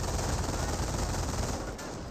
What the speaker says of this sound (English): And now this MG42 is seeing a bit of fire there.